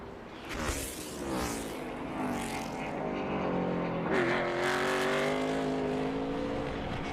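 A NASCAR Cup Series stock car screams through a qualifying lap at Indianapolis, its loud high-revving engine note rising and falling as it passes near.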